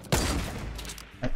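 Gunfire in the battle royale game Fortnite: a loud burst of shots at the start, a sustained crackle after it, and another sharp burst near the end, with no one talking.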